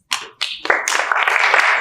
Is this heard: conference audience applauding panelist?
yes